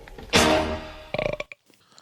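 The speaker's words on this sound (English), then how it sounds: "I burped and Al still looked at me with ardor" A single loud, drawn-out burp erupts close to the mic, followed by a short breathy laugh-like sputter before fading to quiet.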